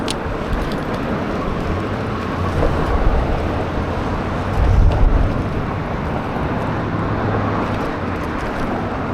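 Wind buffets the microphone of an eBike on a commute, a steady low roar with rumbling gusts throughout and a slightly stronger gust about halfway through; no one speaks.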